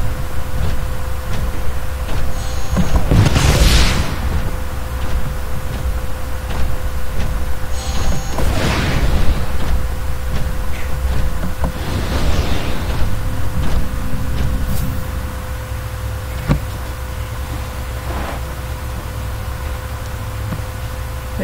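Several booming rocket blasts from the first-person shooter Titanfall roll through a hallway at irregular intervals over a steady hum, with the last few quieter and more distant.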